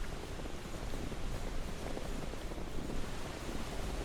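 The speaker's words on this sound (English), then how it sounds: "What a nice waterfall. Surprisingly pretty good water physics" A video game waterfall gives a steady, broadband rush of falling water, continuous and fairly quiet throughout, with no voices.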